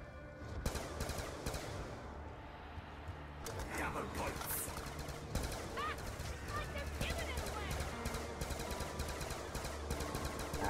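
Gunfire from a Call of Duty zombies match on the Buried map, with dense, continuous shooting and explosions layered throughout amid loud game effects, while players talk over it.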